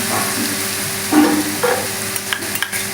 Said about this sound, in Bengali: ভালো করে নাড়াচাড়া করে একটু লাল লাল করে ভেজে নেব।